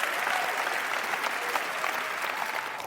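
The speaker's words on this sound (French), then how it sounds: "Applaudissements." Audience applause at a spoken-word poetry talk, a dense, steady wash of clapping from a large crowd that holds even throughout and fades slightly at the very end.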